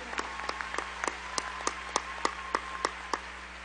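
Sparse, evenly spaced claps ring out at a large business convention, individual sharp hits recurring about every third of a second over a low, steady background hum.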